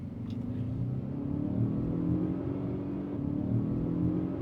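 A 2024 Lincoln Corsair accelerating and holding its gears, its engine a steady close rumbling drone from inside the cabin that rises slowly in pitch and stays loud throughout, with no talking.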